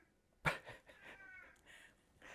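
A house cat lets out a sudden close meow followed by a few softer, trailing vocal sounds in an otherwise quiet room.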